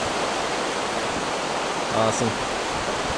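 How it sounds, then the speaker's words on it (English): Glacier river in New Zealand rushing steadily, a broad, close hiss of churning water filling the whole clip, with a brief voice speaking over it near the end. "And this Glacier River is so freaking cool."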